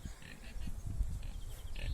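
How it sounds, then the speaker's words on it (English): Pigs in a pen with galvanised sheeting, grunting and snorting loudly and close while bumping about as they try to escape, with no clear talking. "I heard the unmistakable sound of pigs"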